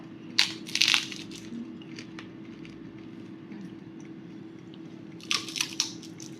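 Crispy air-fried nimkis are bitten close up: a sharp pair of crunches, a quiet pause with faint chewing, then a second burst of crisp crunching.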